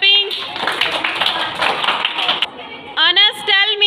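Second-grade schoolchildren give a short burst of clapping in a classroom, a dense patter of many small hands lasting a couple of seconds, followed by a voice speaking.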